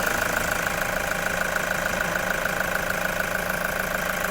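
A 2016 Toyota Commuter van with a 3.0 diesel engine idles steadily, giving an even, slightly knocking clatter with constant loudness and no voices.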